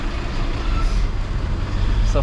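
On a mountain serpentine road, a bus rumbles close by as it passes another vehicle, a loud, steady low engine and road drone with a short hiss near the end.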